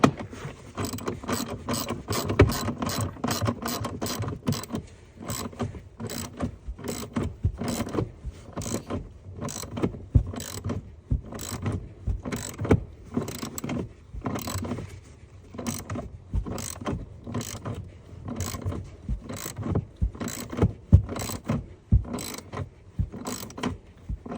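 A ratchet wrench tightens a bolt on the battery of a 3.6L Audi Q7 Quattro, with steady, close clicking strokes repeating through the whole stretch, alone without talk.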